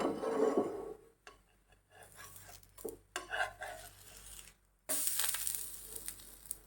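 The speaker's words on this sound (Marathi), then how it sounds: "तर आता आपण एका बाजूने भाजून घेऊया" Breakfast batter roasting in a pan gives a soft sizzle broken by clinks and scrapes of utensils against the pan, close and fairly quiet, with a louder hiss starting partway through and no talking.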